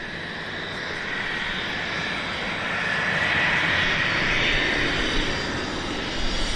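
A Cessna Citation 560 jet flying as a Carson Air medevac passes at Vancouver Airport, giving a broad, steady roar that swells slightly as it goes by and then holds.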